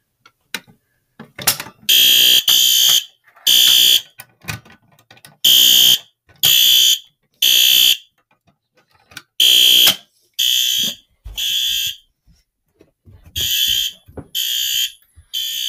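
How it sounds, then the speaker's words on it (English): A fire alarm system, once pulled, blares loud, harsh electronic horn blasts in a steady on-off pattern, each burst about half a second to a second long, with faint mechanical clicks in the gaps. "Let's pull the alarm."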